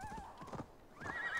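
Horse hooves clip-clop in a steady rhythm with a whinnying neigh rising over them, from a mount in the game Assassin's Creed Valhalla, near and clear.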